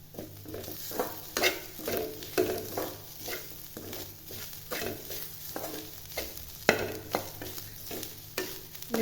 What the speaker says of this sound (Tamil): நல்லா எல்லாத்தையும் நல்லா பொன்னரமாக வறுத்துக்கலாம்